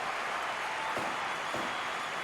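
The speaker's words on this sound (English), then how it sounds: "Crowd going crazy here for this tag team matchup." Loud, steady crowd roar fills the air at a tag team wrestling match, with broadband cheering sustained throughout and a couple of brief surges.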